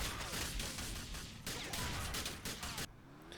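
In the driving game Most Wanted, dense bursts of gunfire and explosions rattle in quick succession, then cut off abruptly near the end.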